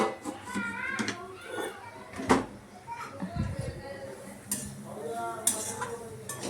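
Masala being stirred with turmeric and roasted chillies in a home cooking pan, a spoon scraping and clinking against the metal in short strokes while people talk and children's voices carry in the background.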